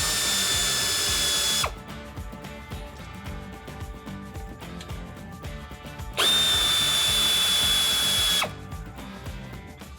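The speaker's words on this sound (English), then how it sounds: "you'll need an 8mm socket to get that screw out" A power driver fitted with an 8mm socket backs out bumper cover screws on a Jeep Wrangler JL, two loud whirring bursts separated by a quieter pause, with no talking.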